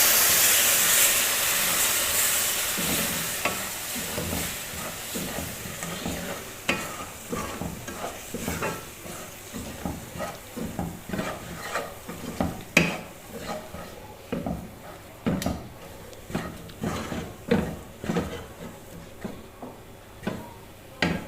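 Milk is poured into semolina in a pan and stirred steadily while making semolina barfi, with a soft sizzle and hiss under repeated scraping and clinking strokes of a spoon against the pan, close and moderately loud, no talking.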